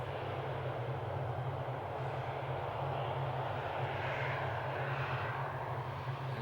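United Boeing Dreamliner airliner taxiing at Amsterdam Schiphol airport, a steady low engine drone and broad rushing roar held constant at a moderate distance, with no voices.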